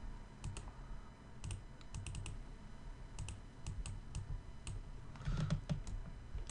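Computer keyboard keys are pressed as shortcuts in Maya 3D software, quiet scattered clicks in small bursts over several seconds, faint and close, with no talking.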